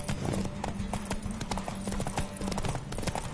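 Rapid clip-clop of horse hooves galloping during a race in The Witcher 3, steady and close, with a faint whinny and a brief bit of voice in the background.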